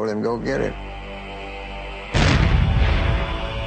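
A black powder explosion goes off as a sudden deep boom that rumbles on for over a second, following a stretch dominated by narration, with the blast loud and close.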